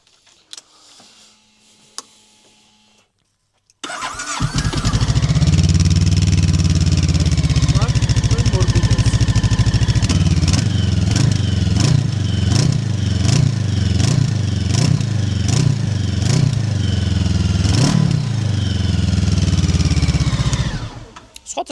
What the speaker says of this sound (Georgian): ეხლა ხმას მოგასმენინებთ უბრალოდ ამ მოტოციკლეტის.